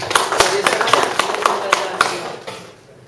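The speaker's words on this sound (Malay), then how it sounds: "Bagi tepukan pada Mr. Zami." Applause for Mr. Zami at an Extreme Energy Coffee product presentation at Ayer Keroh Country Resort, a few fairly sparse claps from a small crowd that fade out toward the end.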